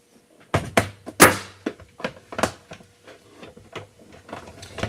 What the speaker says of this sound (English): So let me run this through the cutter again.